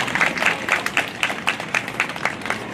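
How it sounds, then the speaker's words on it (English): An audience at an elementary school awards ceremony claps in a short round of applause, the rhythmic claps fairly close and moderately loud, with no talking over them. "if we can give him a round of applause"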